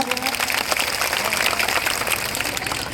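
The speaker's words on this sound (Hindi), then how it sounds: "एक बार जीतू भाई के लिए जोरदार तालियां।" Applause from a political rally crowd in Chawand, broad steady clapping filling the clip without pause, moderately loud with some voices mixed in.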